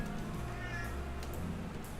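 A male cat gives a drawn-out, half-hearted meow close by indoors, over a low, steady background hum.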